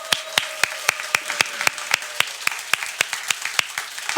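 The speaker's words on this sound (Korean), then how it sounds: "이렇게 박수를 쳐주면" Church congregation at a Sunday worship service clapping together in a steady, even rhythm of sharp claps, about four per second, in a reverberant hall with faint voices underneath.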